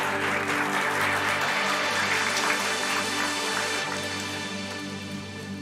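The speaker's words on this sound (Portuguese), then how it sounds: "E nós vamos receber o Tiago com um aplauso bem forte para Jesus mais uma vez." A church congregation applauding together, a dense sustained wash of clapping that stays loud and then gradually tapers off near the end, with no voices over it.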